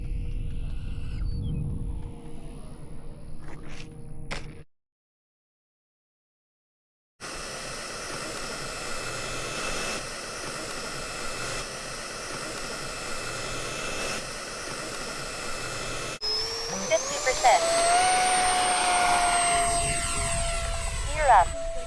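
Model jet aircraft such as Tomcats, Raptors and Super Hornets flying at Fritz Field, a steady loud turbine roar with a rising whine near the end, broken by a brief gap of silence.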